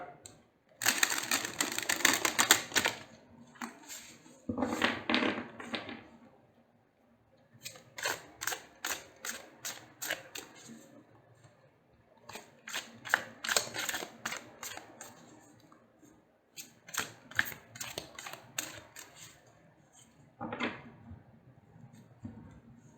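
Repeated bursts of crisp riffling and flapping as a deck of tarot cards is shuffled, several rounds separated by short pauses, close and fairly quiet.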